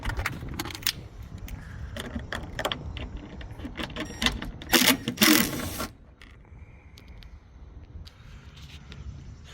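Small 10 mm bolts are removed by hand from a factory reverse camera on a 2022-2025 Toyota RAV4, giving scattered close metallic clicks and taps with a brief louder rattling burst midway, then a quieter stretch.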